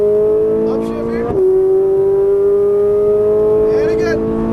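A Ferrari 458 Italia engine drones loudly at high revs, cuts sharply for a quick upshift, then pulls steadily again at a slightly lower pitch.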